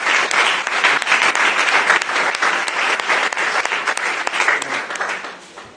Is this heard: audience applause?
yes